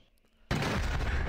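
An animated cannon fires in a single sudden loud boom after near silence, and the blast rings on with a roaring burst.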